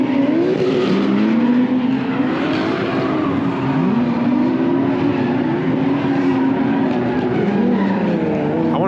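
A Lexus car drifting at a car meet, its engine revving hard with rising and falling pitch and tires squealing, loud and close throughout.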